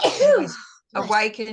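Someone sneezes sharply and close by, mid-conversation. Speech follows right after a brief pause.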